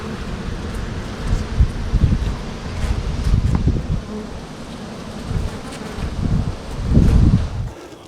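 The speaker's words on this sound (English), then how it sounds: "This whole box is full of bees everywhere." Honeybees fill an opened hive box after winter, giving a steady, close, dense buzzing hum that swells and fades a little, with some rustling and wind noise and no talk.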